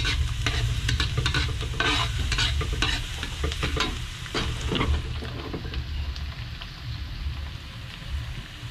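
Rice toasts in a pan with a soft, dense sizzle like rain. Frequent spoon scrapes and stirring clicks run through it, with no talking.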